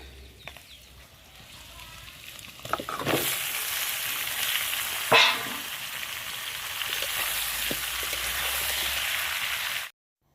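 Bottle gourd going into a sizzling cumin tempering in a pan at a village hearth, with a steady broad frying hiss for most of the stretch, a few clatters and a brief louder burst partway through.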